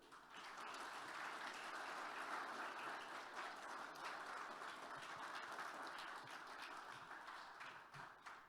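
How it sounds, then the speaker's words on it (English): An audience applauds at a networking conference in the Baltics, a dense, sustained wash of clapping from many hands that swells quickly, holds steady for several seconds and begins to thin out at the end. "Let's applaud them, and then they will come."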